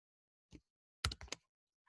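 A computer keyboard shortcut being entered: one soft key press followed by a quick cluster of three sharper clicks, close and quiet with no talk.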